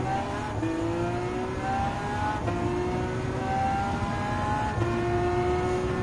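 Race cars including a Ford Vulcan and a Ford GT 2017 in Gran Turismo 7, with engines droning and revving steadily as several cars pass in a continuous, loud stream of rising and falling engine tones.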